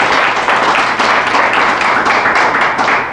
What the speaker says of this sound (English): So let's give them a round of applause for helping us put this on every week.